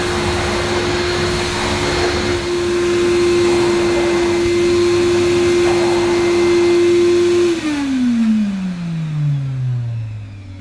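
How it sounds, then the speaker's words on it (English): Vax Rapide 5140 vacuum cleaner dry vacuuming carpet, a loud steady motor whine that holds for several seconds, then drops in pitch as the motor winds down. "I need to give this carpet a good dry vacuuming."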